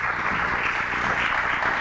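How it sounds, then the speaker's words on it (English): An audience at the City of Davis Martin Luther King Jr. celebration applauds steadily, a dense, even wash of many hands clapping at once, with no speech over it. "Please join me in giving a big round of applause and welcome to Hannah Bieberstein from Congregation Bet Havarim."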